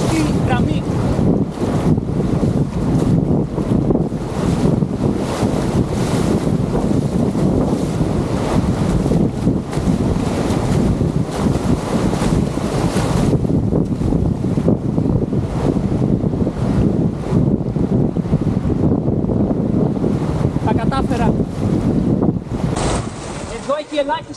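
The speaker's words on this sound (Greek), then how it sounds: "Εδώ έχει αρκετά ορμητικά νερά, πρέπει να τα περάσω από τη σωστή γραμμή." Fast rapids on a Patagonian river in Chile, a continuous loud roar of rushing water mixed with heavy wind buffeting the microphone.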